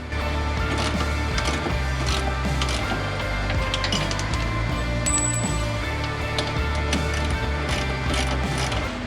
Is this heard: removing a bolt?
yes